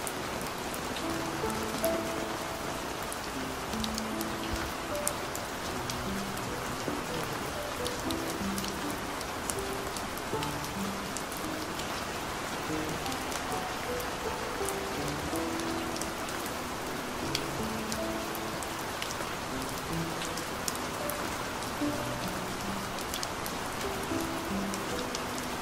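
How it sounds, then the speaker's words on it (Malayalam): Steady rain falls in the forest of Periyar Tiger Reserve at Thekkadi, a dense, even hiss with scattered drips and taps on leaves and surfaces, continuous and unbroken with no voices. "ഈ മഴയത്ത് നാച്ചുറൽ സൗണ്ട് തന്നെയാണ് ഏറ്റവും നല്ലതെന്നുള്ളതുകൊണ്ടാണ്"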